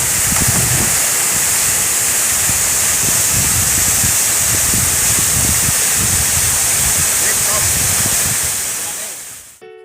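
The Curug Mangkok waterfall pours into a swimming pool below, giving a loud, constant broadband rush of falling water, close and steady, with faint voices mixed in and a sudden cutoff at the end.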